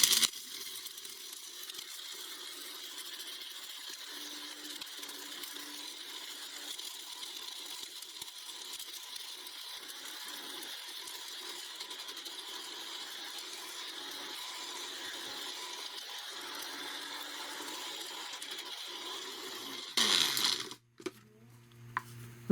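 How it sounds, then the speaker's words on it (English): An electric grinder grinds burnt snow crab shells with a steady mechanical whir and faint rattling that runs at even strength for about twenty seconds, then cuts out with a few clunks. "I'm going to close it on here and grind it up"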